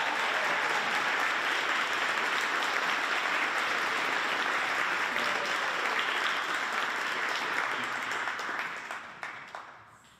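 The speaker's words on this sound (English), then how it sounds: "So let's give them a round of applause." An audience at a high school spring band concert gives a full, sustained round of applause that holds steady for about eight seconds before tapering off into a few last claps.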